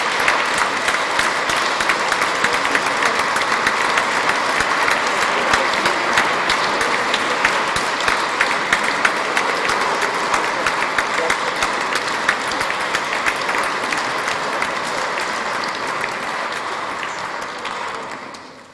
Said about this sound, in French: Merci pour ces acclamations